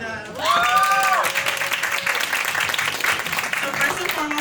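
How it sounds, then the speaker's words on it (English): An audience at an evening panel event for Black women applauds steadily and fairly loudly, with whoops and cheering voices rising above the clapping and a sustained shout early on. "let's clap it up for them"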